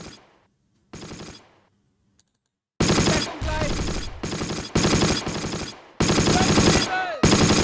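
Rapid automatic gunfire and cannon fire from tanks engaging German defenders in the Close Combat WWII game at Mortain 1944, loud bursts of sustained rattling broken by short silences, with a few whistling sounds between.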